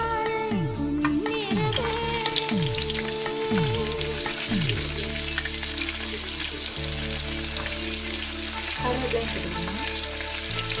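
Onions go into hot oil with fennel seeds, sizzling and crackling steadily throughout, with repeated scraping stirs of a utensil against the pan, close and loud with no talk.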